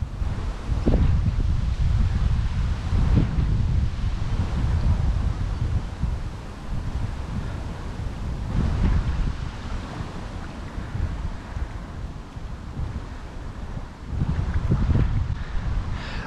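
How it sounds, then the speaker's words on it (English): Strong wind buffets the microphone beside Kennington Reservoir while fishing, a continuous loud roar with gusts swelling and easing, water lapping faintly underneath. "That wind's atrocious."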